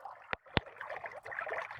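Water from a pumped pipe gurgling and sloshing outdoors at twilight, a soft continuous burble like a small brook. Two sharp knocks sound early on before the flow settles into a steady, fairly quiet babble.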